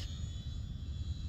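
A Sport Cub S2 RC model airplane motor under throttle, a faint, steady whine droning on without a break and heard alone.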